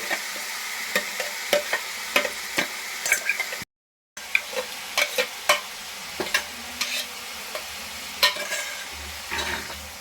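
Onion frying in a little oil in a pan for a Bengali egg and potato curry: a steady sizzle broken by repeated scraping and tapping stirs of a spatula, close by, with no voices.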